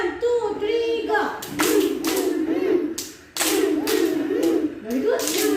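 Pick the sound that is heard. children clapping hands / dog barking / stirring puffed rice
children clapping hands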